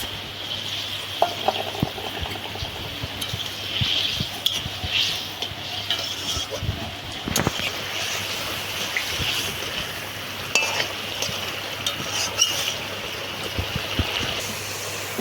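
Boiled eggs and fried fennel go into a bubbling egg curry, giving a close, steady sizzle and simmer with scattered stirring scrapes and metallic pot knocks, and no one talking.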